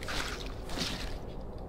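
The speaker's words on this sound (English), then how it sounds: "I've just spilt the water everywhere." Water splashing and dripping across a floor in the janitorial cleanup game Viscera Cleanup Detail, a soft continuous wet squishing and trickling that runs steadily for the whole moment at moderate level, with no talking.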